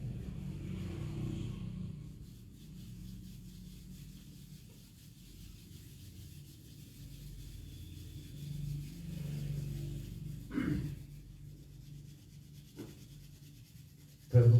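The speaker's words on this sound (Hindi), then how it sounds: "अपनी दोनों हथेलियों को रगड़कर अपने मुखमंडल पर फेर लेंगे।" Palms rub together at the end of a meditation session, a quiet, continuous close swishing friction that softens after the first couple of seconds before a brief thump at the end.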